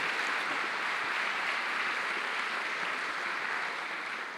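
A church congregation applauding steadily, a dense continuous wash of clapping that holds at an even level and eases slightly toward the end.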